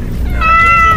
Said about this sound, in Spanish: Mira, gatito. ¿Qué hay, un gato?